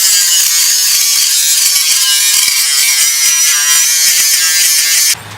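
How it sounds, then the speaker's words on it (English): Angle grinder smoothing down a weld on a steel battery tray for a John Deere 455 lawn tractor, a loud, steady high-pitched whine with gritty rasping that runs continuously before cutting off abruptly near the end. "Just got to grind that weld down a little bit more just to smooth it up"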